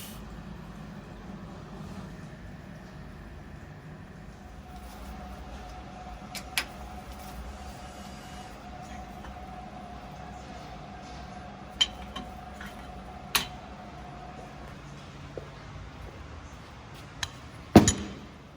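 An Optimill F80 milling machine runs steadily at low level, its even hum carrying a sustained tone, broken by occasional sharp metallic ticks and clinks from cutting parts, ending in a louder clunk; no voices.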